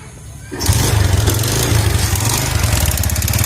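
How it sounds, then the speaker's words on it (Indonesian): A Yamaha Jupiter Z motorcycle with a badly worn, knocking piston starts up and idles loudly nearby, settling into a steady, rough, noisy engine drone with a constant rattling knock. "suaranya seperti ini, berisik banget. Ini suara pistonnya parah sih."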